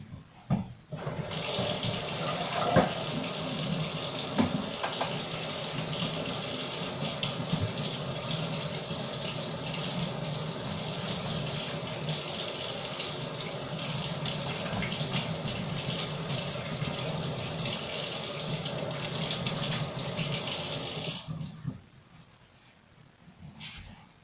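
A kitchen tap runs steadily for about twenty seconds while hands are washed during a madeleine-baking cooking class. The water gushes loud and close, then stops, with no talk over it.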